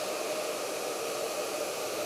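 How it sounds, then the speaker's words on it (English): A Sam Villa professional ionic blow dryer runs close by, giving a steady, loud, even whoosh of airflow that holds constant throughout with no pauses. "with the Sam Villa professional ionic blow dryer"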